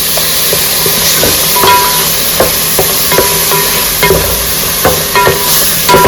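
Coconut paste fries in a pan for chicken dum biryani, giving a steady loud sizzle with regular scraping and stirring strokes on top and no talking.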